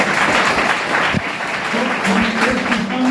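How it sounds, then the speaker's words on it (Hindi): Audience at a business training event applauding, a loud dense patter of clapping under a talking voice that continues over it. "और बहने लोगों के लिए जोरदार ताली होनी चाहिए।"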